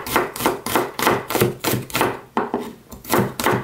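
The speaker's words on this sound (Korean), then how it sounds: "마늘은 좀 굵게 다질게요." A knife coarsely minces about thirteen garlic cloves on a cutting board, making quick, steady rhythmic chops, close and crisp, roughly three strikes per second with no talking.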